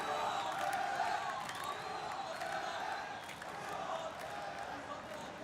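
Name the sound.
esports event crowd cheering loudly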